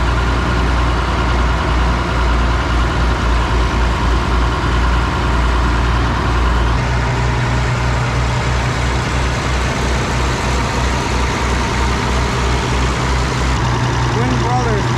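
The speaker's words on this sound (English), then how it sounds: "This is basically the tractor that killed the John Deere two-cylinder." An Oliver tractor engine idles steadily with a deep, continuous low rumble, close and loud, while people talk nearby.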